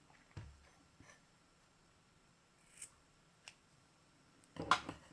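Scissors snip through yarn during crochet work on a rug, giving a few quiet, brief cuts with a sharper, louder snip near the end.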